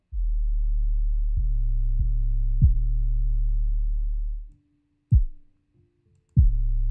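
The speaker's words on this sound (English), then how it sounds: "as I turn it down, you only really hear the bass" A deep, clean bass line plays a few low sustained notes, followed by two isolated thumping hits after a brief pause.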